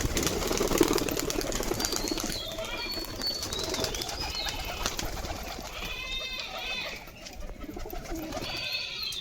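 Pigeons coo and call close by after landing from a flight on a hot sunny day, with soft wing flutters and rustling over a low background hum.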